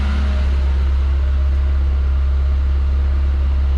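A rebuilt Toyota Celica engine runs on its first start after a rebuild, holding a steady, loud, lean-sounding idle around 2,000 RPM with a strong low droning hum throughout and no speech.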